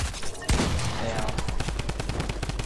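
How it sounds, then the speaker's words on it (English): Drum gun fire in Fortnite, a loud rapid burst of automatic shots in quick rhythmic succession after a sharp opening crack, continuing steadily to the end with no speech over it. "Bro, why do they gotta have the drum gun?"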